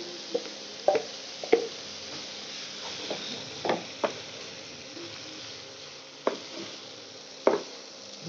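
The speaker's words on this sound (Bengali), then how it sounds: "আমাদের ডিম ঝুরঝুরা করে যে ভাজা যেটা, সেটাকে আমরা অ্যাড করে দেবো এটার ভিতরে" Vegetables and crumbled scrambled egg are stir-fried for chowmein in a pan. A steady soft sizzle runs throughout, broken by sharp scraping and tapping clicks from the spatula at irregular intervals.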